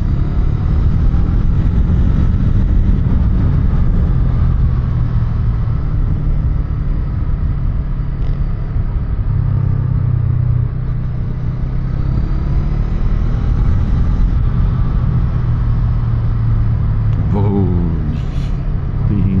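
Voge motorcycle engine running on the road, a steady, loud low rumble with wind noise and slight shifts in pitch, continuous throughout.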